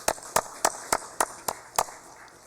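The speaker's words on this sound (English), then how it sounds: "Please, let's give them a round of applause" Seven sharp, evenly spaced claps ring out in a steady rhythm, a thin round of applause in a congress session hall, with no talking over it.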